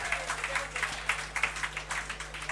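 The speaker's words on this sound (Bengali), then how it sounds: "স্যারের জন্য একটু জোরে করতালি আশা করছি।" An audience at an official government gathering gives rhythmic, fairly light applause, a patter of claps over steady background hum.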